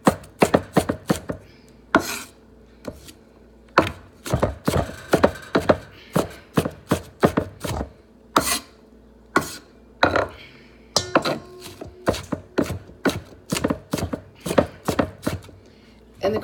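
Knife chopping an onion on a cutting board in a home kitchen, sharp rapid strikes in uneven bursts and quick runs, close and crisp, with short pauses between groups of cuts.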